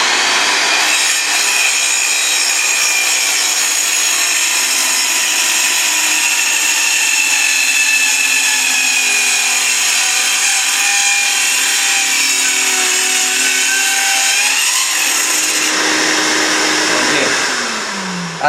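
A Porter-Cable PC 314 circular saw trims plywood along a guide rail, a loud, sustained high-pitched whine of the blade cutting wood, holding steady for about fifteen seconds before spinning down at the end.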